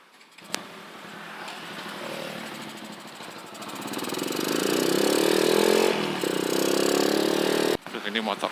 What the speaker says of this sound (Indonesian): ini motor gue makin lama makin parah aja ini